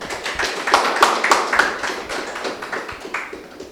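Audience clapping for performers at a Sunday gathering, a short burst of moderately loud applause from a small group, fading toward the end.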